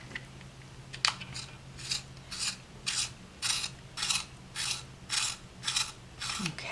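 A Holbein T'Gaal hand-crank pencil sharpener on its shortest-point setting shaves a pencil in about ten rhythmic rasping, grinding turns, each a short burst, close and moderately quiet over faint background hum.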